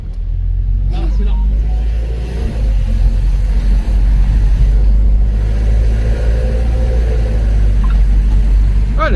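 A Mercedes W124 coupe's engine gives a constant low, rumbling drone close by, heavy in the bass, with a brief rise in revs midway; people talk over it.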